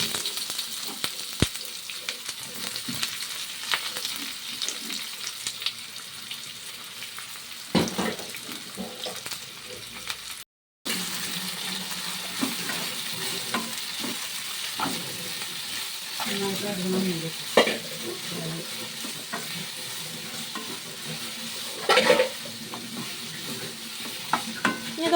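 Onions frying with fennel seeds and leaves in a pan for chicken curry, a continuous close sizzle broken by scraping stirs and occasional clinks of a spoon, with one brief dropout partway through.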